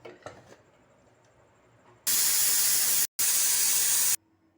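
A pressure cooker cooking cassava releases a loud, steady rush of hissing steam for about two seconds, cuts off for an instant, then resumes before stopping abruptly.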